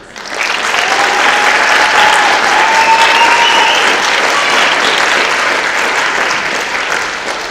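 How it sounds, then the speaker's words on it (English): A large crowd at a high school mid-year graduation ceremony bursts into loud, sustained applause for the graduates, with a few whistles woven through the dense clapping, which eases slightly toward the end. "Please give a round of applause for all of our graduates."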